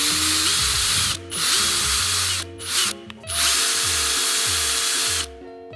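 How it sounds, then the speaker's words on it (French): A cordless power drill pre-drilling several holes in wood while building a beach hut, whining bursts that rise and stop between holes, close and loud, with no talk. "je vais venir pré-percer comme ceci à différents endroits"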